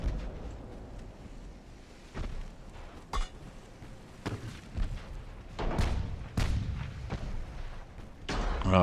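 Torpedo hits and gunfire strike a battleship in the naval video game Ultimate Admiral: Dreadnoughts, a series of sharp booms and thuds spaced irregularly over a rumbling background, several striking in quick succession near the end.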